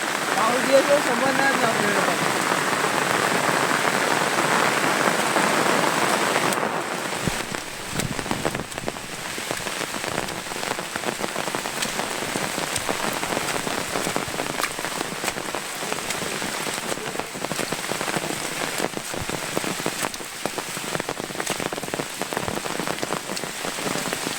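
Steady rain falls on a surface outdoors in the Konkan countryside, a loud continuous hiss with dense pattering drops that drops slightly in level after a few seconds and persists throughout.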